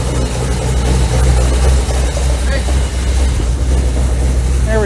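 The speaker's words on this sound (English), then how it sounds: "Serious exhaust leak." A 1984 Dodge Ram D150 engine idles on a cold start with a serious exhaust leak, giving a loud, steady, rumbling drone with rough puffing texture throughout.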